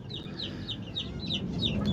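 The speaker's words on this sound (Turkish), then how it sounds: "bu tıklama uyarıdır. Bana yaklaşma demektir" A hen with young chicks gives a rapid series of sharp clicking warning calls, several quick bursts close by over low farmyard background.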